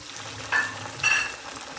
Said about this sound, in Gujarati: એના આપણે મોટા મોટા ગોટા તળી લેવાનું તેલમાં